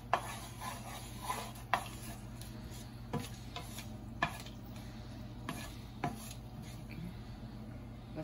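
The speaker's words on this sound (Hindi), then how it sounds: "थोड़ा सा हम इसको जस्ट जो है वो हल्का सा बस सॉटे ही ऑयल में करेंगे" Something sautéing lightly in oil in a pan while preparing boneless chicken boti, with a steady low sizzle broken by occasional sharp taps and scrapes of a utensil stirring, close and moderately quiet, no talking.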